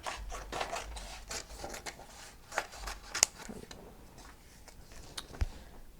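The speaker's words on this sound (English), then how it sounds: "let's cut some red out" Scissors cut through red paper in a quiet room, a series of soft, irregular snips and rustles with occasional sharper clicks of the blades, close and faint.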